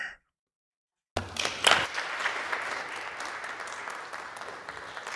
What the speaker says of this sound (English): Getting a rousing round of applause from the 13 people in the room